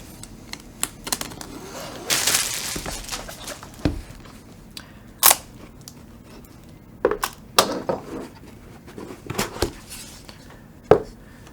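A Heavy Grail keyboard housing in Sunset Boulevard pink is opened from its packaging, with sparse sharp plastic clicks, knocks and rustling clatter scattered through an otherwise quiet room, close and intermittent.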